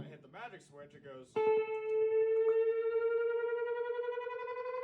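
A pitch-shifting effects pedal kicks in after a moment of talk, producing a loud, steady harmonic tone whose pitch slowly glides upward for several seconds and runs without a break to the end.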